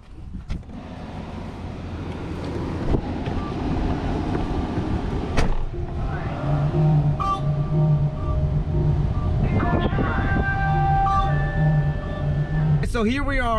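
A 2016 Tesla Model S P90D dual-motor electric car is driven, heard from inside as steady road and wind rumble that builds over time, with a faint motor whine and occasional clicks and tones; someone talks over it.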